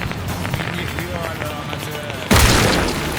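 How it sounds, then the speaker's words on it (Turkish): A sudden loud burst of fireworks exploding in the video game Hunt: Showdown cuts in over a busy, hissing background, booming and crackling as the sound swells. "Her havai fişeğini patladı."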